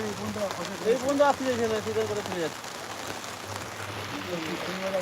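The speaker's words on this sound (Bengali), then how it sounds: "তাও ভালোই জোরে বৃষ্টি হচ্ছে" Heavy rain falling during a low-pressure monsoon downpour in southern Bengal, a steady wash of drops on surfaces beneath someone talking, with a faint engine hum in the background.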